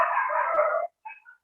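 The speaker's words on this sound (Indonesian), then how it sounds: "ini ada anjing yang menggonggong mau membangunkan kita." A neighbour's dog gives one drawn-out, wavering howl-like bark followed by a brief, softer yelp, fairly loud and alone.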